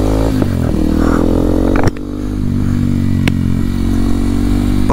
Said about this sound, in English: point of today's video just to get a little bit of exhaust clips